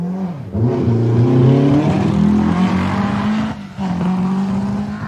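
Rally car racing in the 1990 British Open Rally Championship, a loud, close engine roaring and revving steadily with shifting pitch, briefly dropping and then surging again, no voices.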